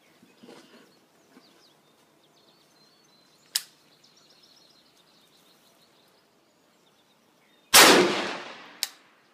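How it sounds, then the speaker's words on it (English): A precision rifle fired while zeroing its optic at a range, one sharp, loud close report with a short decaying tail, preceded by a fainter distant crack and followed by a brief later snap in a quiet outdoor setting. "So we're going to fire this next shot and see where it is."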